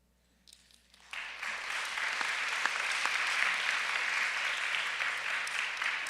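Audience applause at a Christian academy grammar-school chapel for second grade speech meet qualifiers; a few scattered claps come first, then a full, steady round of clapping from a large crowd that holds to the end.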